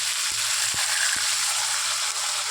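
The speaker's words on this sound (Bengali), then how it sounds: "এবার আমি জল দিয়ে দেবো।" Steady hiss and sizzle of curry frying in a pan, a loud close crackle with a few soft low knocks as water goes in.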